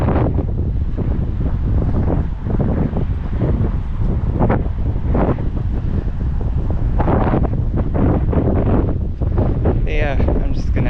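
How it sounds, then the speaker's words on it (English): Strong gusting wind buffets the microphone throughout on a coastal headland, a heavy continuous roar with rising and falling surges, close and loud. "It's a bit windy up here."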